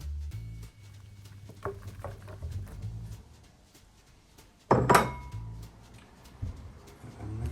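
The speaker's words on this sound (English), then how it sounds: "And next, we're going to add the onions." Onions tipped into a pan of meat, with soft clinks and patters of pan and utensil, a sharper clatter midway, and quiet shuffling movements at low volume in a still room.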